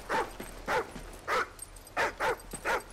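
Riley, a dog in Call of Duty Ghosts, gives a series of short whimpers and yips, about seven close, evenly spaced nasal cries with brief quiet between them, and no talking.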